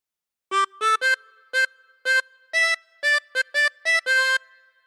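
A melody played on a 16-hole tremolo harmonica: Ten Green Bottles, a string of about eleven short, warbling reedy notes in a steady rhythm, close and clear with no other sound.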